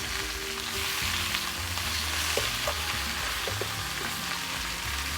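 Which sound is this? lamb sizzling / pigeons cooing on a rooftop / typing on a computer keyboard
lamb sizzling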